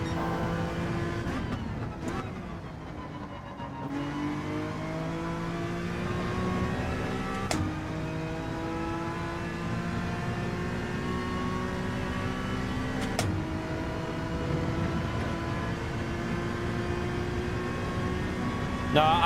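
Honda NSX racing in Gran Turismo 7: a steady, sustained engine drone with shifting pitch as it accelerates and brakes, plus brief gear-change breaks and faint talk over it.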